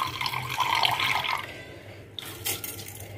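Water drains off soaked raw rice before grinding in a kitchen, a close, steady pouring trickle that fades to quiet with a few drips and light clatter.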